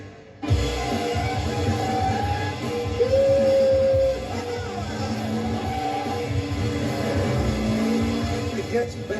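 A Toyota GT86 with a flat-four boxer engine drives steadily, a continuous engine drone rising and falling in pitch as it revs, with someone talking over it throughout.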